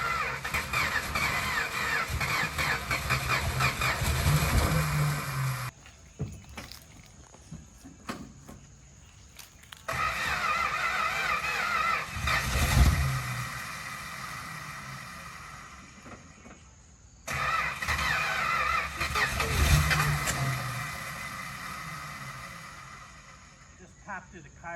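A 1967 Plymouth GTX V8 starts and runs loud and close in three sustained runs separated by brief drops, with occasional pops and a person speaking over it.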